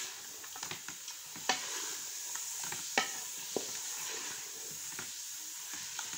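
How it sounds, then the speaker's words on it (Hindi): Chicken with masala sizzles and fries steadily in a pan, with a continuous hiss broken by several sharp scrapes and clacks of a stirring spoon; no one talks. "पांच मिनट भूनूंगी मैं इसे अच्छी तरह"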